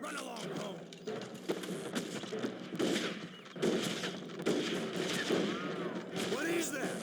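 Gunfire in the Western video game Red Dead Revolver, sharp shots ringing out amid a busy game soundscape with hoofbeats and music, someone talking over parts of it.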